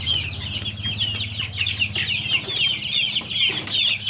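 Joper chickens cluck steadily at close range while eating mixed feed, with overlapping bird calls, a low background hum and no talking.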